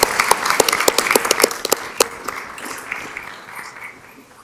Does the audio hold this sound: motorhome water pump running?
no